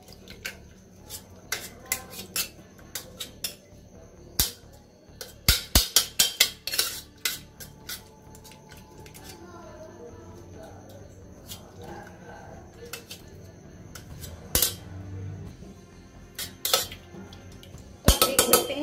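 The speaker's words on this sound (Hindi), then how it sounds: "जब ये कुकर आपका ऐसे हो जाए, देन उसके बाद इसे आपको ऐसे मैश कर लेना है।" Metal utensil scrapes and clanks against a pressure cooker in irregular bursts, with soft squishing between sharper knocks as cooked food is mashed.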